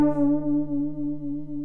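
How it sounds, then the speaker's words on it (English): A sustained synthesizer tone with a slow, wavering warble from increased LFO depth, steady and loud, with no voices. "I'm going to increase the LFO depth. That should make it warble more."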